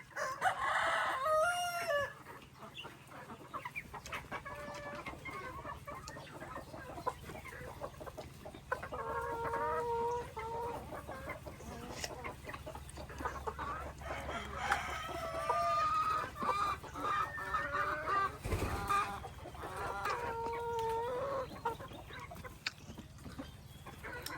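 Chickens, including fighting cocks, cluck steadily at close range while a rooster crows near the start, with more clucking and squawks layered over a constant low hum.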